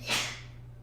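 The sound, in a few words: sneeze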